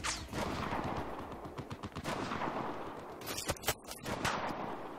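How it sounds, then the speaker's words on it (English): A minigun fires in Battlefield 4 multiplayer, a rapid rattling stream of shots that rises and falls in intensity amid chaotic battle noise, fairly faint overall. "Oh, shit, minigun."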